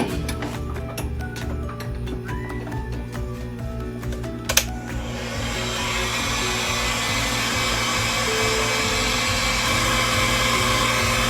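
A hair dryer drying chalk art on a stencil, its steady broadband whoosh kicking in about halfway through and running loud and constant to the end, after quieter clicking and handling noises.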